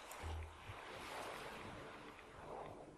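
Steady waves washing against a shore in the video game Fallout 4: a continuous, fairly quiet surf wash with a windy hiss, plus a brief low thump near the start.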